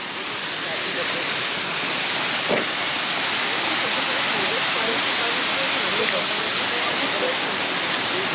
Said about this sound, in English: Wow, there's a waterfall there.